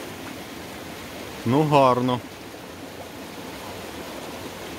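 A steady rushing of a flowing mountain stream fills the background, a continuous sound, in light drizzle; someone says a couple of words briefly over it.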